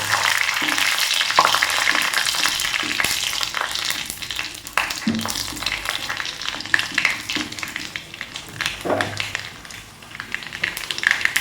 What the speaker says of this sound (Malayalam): കടുക് പൊട്ടി തുടങ്ങിയിട്ടുണ്ടെങ്കിൽ ഇതിലേക്ക് ഒരു 3-4 ഉണക്കമുളക് ഇട്ട്